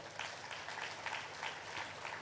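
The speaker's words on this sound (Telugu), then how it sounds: "గట్టిగా క్లాప్స్ కొడదాం" An audience claps continuously at a meditation event, the Patriji Dhyana Mahayagam, giving a dense, even wash of many hands with no voices on top.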